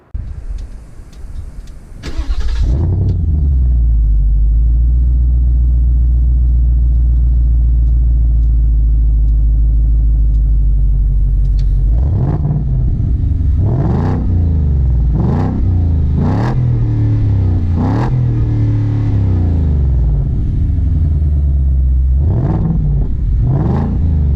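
A Ford Mustang Mach 1's naturally aspirated V8 barks to life, settles into a loud, deep idle, then is blipped repeatedly in sharp, close revs that rise and fall in quick succession.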